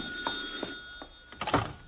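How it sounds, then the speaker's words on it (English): A telephone bell rings in an old comedy home setting, a few short rings fairly close with brief gaps between them, the last burst loudest. "Spend the whole night trying to fall asleep, and then the phone has to ring."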